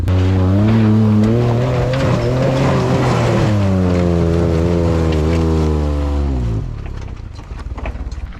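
A Honda Acty 4x4 kei truck climbs out of a dip with its engine revving loud and close, straining at high revs, then the pitch falls and it eases off toward the end.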